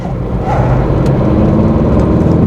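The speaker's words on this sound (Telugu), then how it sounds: "డీజిల్ బండి అయినా కానీ పికప్ మాత్రం చాలా ఫాస్ట్గా ఉంటుంది" A diesel Tata Nexon accelerates from the cabin, a steady loud engine drone with a slight rise in pitch and a brief lift near the start as it works through a gear.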